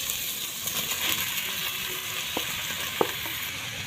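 Sponge gourd sautéing in a pan with oyster sauce and flaked milkfish, a soft continuous sizzle with a few sharp clinks and scrapes of a utensil stirring, moderately quiet, no talking.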